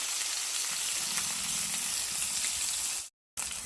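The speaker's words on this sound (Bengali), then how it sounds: "এই যে মাছ ভাজি হয়ে গেছে এখন নামি" Fish frying in hot oil, giving a continuous close hiss and sizzle that cuts off abruptly near the end and then resumes.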